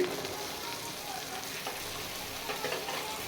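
Half-boiled mash dal goes into hot fried masala in a pan, giving a continuous crackling sizzle with stirring scrapes, steady and close throughout.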